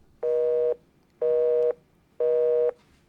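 Telephone busy tone after the other party hangs up: three evenly spaced steady beeps, each about half a second long with equal pauses between them, clear and alone with no talking.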